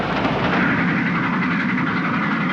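A passenger train running at speed, heard from inside a carriage as a steady, loud broadband rumble with continuous rolling rail noise and no break.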